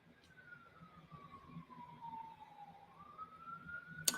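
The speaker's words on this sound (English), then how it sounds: "I don't know if y'all can hear the sirens out there" An emergency siren wails outside in the city, faint and distant, its single tone slowly falling then rising again over quiet room noise.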